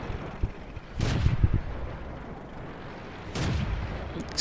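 Tank gunfire in World of Tanks, two heavy booming shots about two seconds apart, each a loud crack with a rumbling tail, over a quiet low background.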